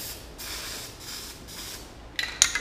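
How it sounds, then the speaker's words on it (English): A can of spray paint held upside down hisses in several steady bursts with brief pauses between them, ending in sharper sputtering puffs as the paint runs out. "spray until you don't really see much coming out, and it prevents it from clogging up as much in your tip"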